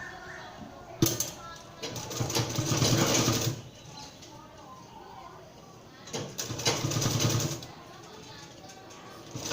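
A sewing machine stitches piping onto a blouse in two close, loud bursts of rapid running stitches separated by a quieter pause.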